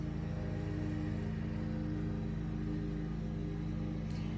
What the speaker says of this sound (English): Grace and Miles, if you hear that noise in the background, it's because they're mowing my lawn and it is so loud